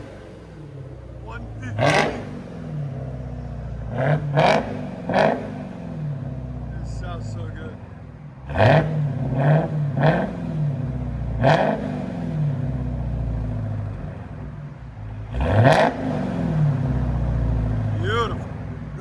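2022 Dodge SRT Hellcat with a muffler delete, its engine idling with a low burble and then blipping through sharp, loud revs in repeated bursts, while people talk briefly between throttle stabs.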